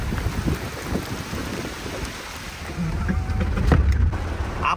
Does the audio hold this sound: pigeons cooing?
no